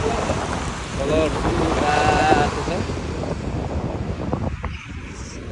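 Cold wind gusting steadily against the microphone outdoors in Newcastle, a loud broadband roar that swells and fades over several seconds, with faint voice-like traces and no clear speech.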